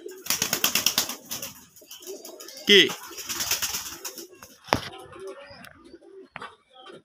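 Close wings flap in a quick burst as a pet pigeon takes off, followed by soft cooing and scattered rustles, while a woman calls out and talks over parts of it.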